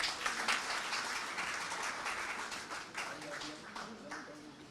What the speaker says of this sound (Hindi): और तालियां बजाते रहिए प्लीज।